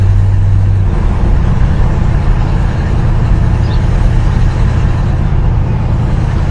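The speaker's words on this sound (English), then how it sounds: "does have quite a bit of power with that 383 under the hood. It sounds great too." A 1965 Dodge Polara with its 383 V8 runs steadily, giving a loud, close, even rumble with a low throb throughout and no voices over it.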